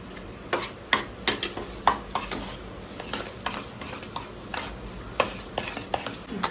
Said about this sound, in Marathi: आता त्याच्यात मी बदाम आणि काजू घालते, म्हणजे ते थोडे तुपामध्ये भाजले जातील